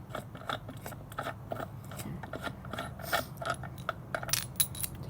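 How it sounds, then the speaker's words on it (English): Mechanical clicking and ratcheting as the compression adjuster on an IHC fork compression system is unscrewed, with a steady run of close, small metallic ticks and scrapes and no talking. "unscrew this, unscrew the compression all the way"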